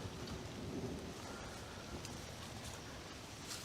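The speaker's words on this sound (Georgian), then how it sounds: "წვიმამ დაიწყო ნელა-ნელა." Rain begins falling outdoors as a faint, steady hiss of drops that carries on evenly throughout, with no clear voices over it.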